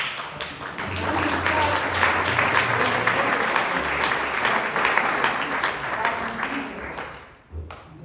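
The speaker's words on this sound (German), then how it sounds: "Einen riesigen Applaus für die Hopfenstraße" Audience applause for Hopfenstraße at an award show: a loud, dense wash of clapping and crowd noise sustained for several seconds before dropping away abruptly near the end.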